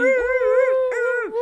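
A voice imitates a dog, giving two drawn-out howling yelps with wavering pitch, close and loud, with a brief break between them.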